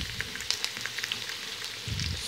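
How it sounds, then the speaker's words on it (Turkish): Potatoes sizzle in a hot pan with scattered crackles and pops, a constant frying hiss with a brief low rumble near the end. "Şöyle patatesleri de şöyle biraz kızartıyorum."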